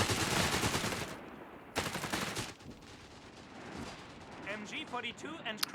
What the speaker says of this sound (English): 3 camo machine guns now for Future.